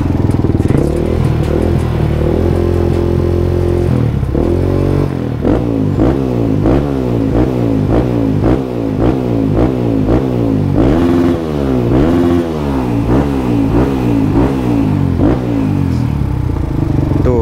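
A Yamaha WR155R motorcycle engine being revved in repeated blips, each rise and fall of the exhaust note loud and close, with a rattling, uneven idle between revs.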